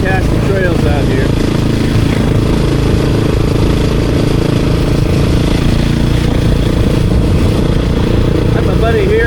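Honda XR 650 and Beta 500 dirt bikes ride mountain trails, their engines droning loud and constant with shifting revving pitch, a close rough roar filling the whole stretch.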